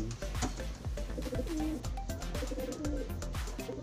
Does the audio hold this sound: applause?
no